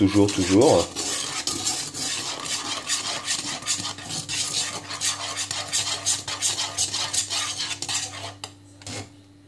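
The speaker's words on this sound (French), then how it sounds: "Je remue toujours." A utensil stirs baking soda into a pot of homemade laundry detergent, scraping and clinking steadily against the metal for the whole stretch, with a soft sizzle underneath and a brief clatter near the start.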